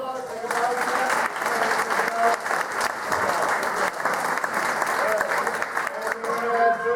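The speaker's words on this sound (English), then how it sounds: "Let's give him a round of applause." Sustained audience applause fills a scout gang show hall, dense steady clapping from a large crowd lasting throughout, with a few voices faintly mixed in.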